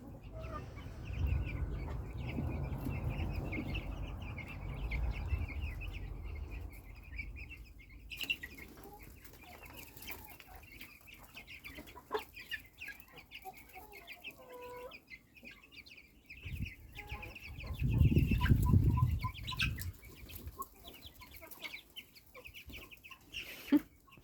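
Chicks out in the farmyard on a sunny morning keep up a steady stream of small peeps and clucks, with bouts of wing flapping and rustling swelling near the start and again later on.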